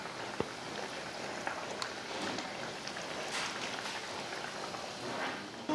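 Fish curry (meen kulambu) with four spice-rubbed fish pieces simmering in a pan, a steady soft bubbling and crackling hiss that runs evenly throughout without any talk.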